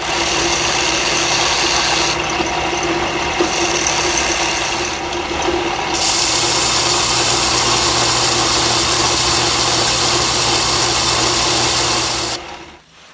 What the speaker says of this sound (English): I'll just keep sanding it around until it's gone.